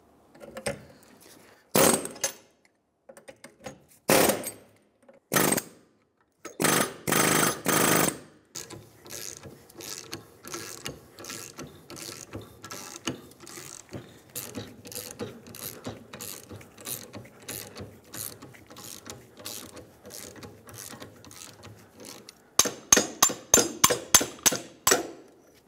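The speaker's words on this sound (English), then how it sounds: "get the press set up here, press it out, press the new one in" Hydraulic or screw shop press forcing a control arm bushing out and a new one in on a 1996-2002 Toyota 4Runner, heard as loud isolated clunks, then a long run of rapid ratcheting clicks and a final quick series of sharp clacks, close and alone.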